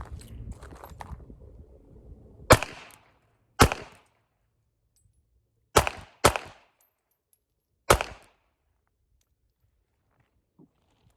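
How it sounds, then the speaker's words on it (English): Old Ruger LCP .380 pocket pistol firing five sharp, loud single shots at uneven intervals, two of them close together, with a quiet pause after each shot. "Let's start shooting right now."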